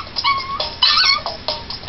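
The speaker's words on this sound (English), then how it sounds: "always barking at the paperboy" A dog, one of several household dogs, lets out a few short yips and whimpering barks in quick bursts, moderately close and fairly loud, with brief pauses between and no talking.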